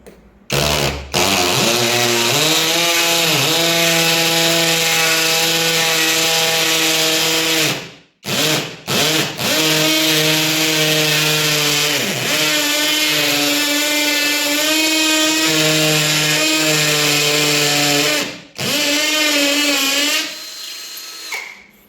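Loud, sustained whine of an electric drill boring into ceramic wall tile, pitch wavering under load, with a few short pauses before it starts again.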